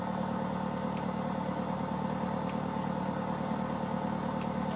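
A small airplane engine during a solo takeoff, a steady loud drone with a constant rough texture that holds throughout.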